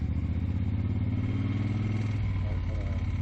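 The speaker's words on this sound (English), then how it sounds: "nice mellow exhaust sound." A 1972 Eldorado motorcycle engine putters steadily at low revs, a mellow, throbbing exhaust note with a faint clattering edge, close by.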